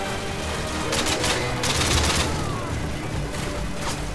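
Sustained, loud automatic gunfire in the video game Call of Duty: Modern Warfare 2, a dense rattling fusillade with heavier bursts rising and falling throughout.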